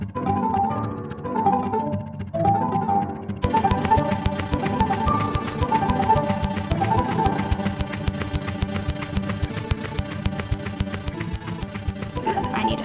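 A sewing machine stitches an embroidery design, running steadily and quickly with a dense mechanical whir and rapid needle rhythm throughout, close and fairly loud, with no talking.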